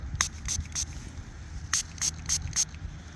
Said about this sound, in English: Give that a little spray up for you.